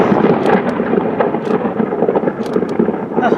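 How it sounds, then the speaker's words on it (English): Close thunder rumbles and cracks from a nearby lightning storm, loud and rolling with sharp bursts, mixed with rain and wind buffeting the microphone. "And the next day, I had a close call with another lightning storm."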